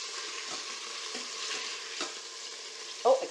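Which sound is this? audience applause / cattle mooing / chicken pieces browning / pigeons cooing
chicken pieces browning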